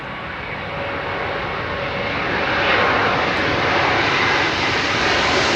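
An airliner on landing approach to Heathrow runway 27L passes low overhead with a loud, sustained engine roar that swells toward the middle and holds steady, with no talk over it.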